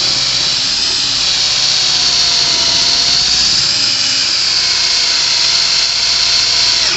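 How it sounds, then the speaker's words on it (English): A power drill runs continuously and loudly at a steady high whine, drilling the rivets off a Hol-Dem Model 57 electric fencer, with no pauses or speech. "let's get a drill bit of some sort, and we'll start drilling these rivets off."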